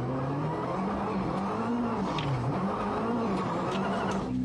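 A Citroën DS3 rally car engine drones steadily on an Acropolis Rally stage, a sustained loud hum with wavering pitch as the revs rise and fall, heard from inside or near the car.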